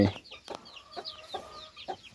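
Native Pradu Hang Dam chickens in a coop give a few short, soft clucks spread across a brief stretch, fairly close, with faint background rustle.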